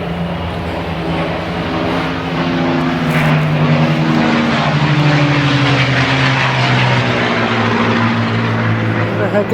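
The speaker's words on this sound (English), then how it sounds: "Oh, two P51s side by side, and I missed them." Two P-51 Mustang propeller planes passing overhead together, a loud rising and falling engine drone that swells in the middle and fades, with a person talking over it.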